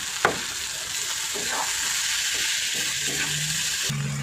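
Leafy greens tossed into a pan of fried onion, an even close sizzle after a sharp clank, with light stirring and a faint hum near the end.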